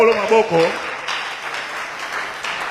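A church congregation claps and cheers together during a French Sunday service, with a steady wash of applause after a brief burst of voices at the start, continuing evenly throughout.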